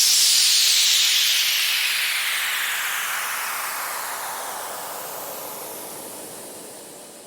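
A loud white-noise downlifter sample sweeps downward, starting bright and gradually darkening and fading over about seven seconds.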